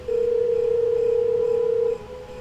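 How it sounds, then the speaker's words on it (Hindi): A steady telephone tone sounds alone for about two seconds before dialing a call to a father, a single unbroken electronic note that cuts off cleanly, leaving a quiet room hiss. "अपने पापा को फोन लगा के बोल देता हूँ कि मैं पहुंच गया हूँ"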